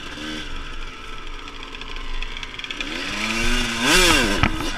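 A Kawasaki KX 125 two-stroke dirt bike rides on muddy ground, its engine buzzing loud and near and rising in pitch as it revs hard toward the end.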